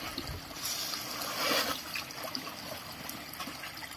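A sack of rice seed lowered into deep irrigation water on a farm to soak, with sloshing, trickling and gurgling water that swells briefly midway before settling into a steady churn.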